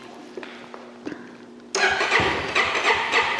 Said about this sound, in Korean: 아예 시동 자체가 안 걸립니다.